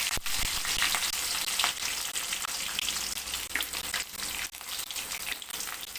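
Chana dal, urad dal and green chilies frying in hot oil, a steady dense sizzle and crackle with occasional sharper pops, close and fairly loud throughout, no voices.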